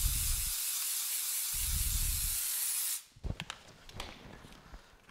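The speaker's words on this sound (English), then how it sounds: "warm up the film a little bit." A handheld steamer warming paint protection film on a Porsche side mirror gives a loud, continuous close-up hiss for about three seconds, then cuts off, leaving light handling clicks.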